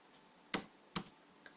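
Two crisp keystrokes on a computer keyboard as shortcut keys are pressed to copy text, followed by a fainter third tap, in a quiet room.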